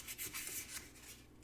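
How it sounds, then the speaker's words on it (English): Hand sanding with fine 600 grit sandpaper: close, steady back-and-forth rubbing strokes with a soft, hissy scratch, repeating in an even rhythm with no talking. "So what you're doing is you're sanding until it is evenly sanded to that grit."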